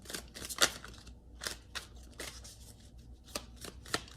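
Tarot cards shuffled by hand, a series of crisp, irregular riffling and slapping bursts close up, with short pauses between them and no talk.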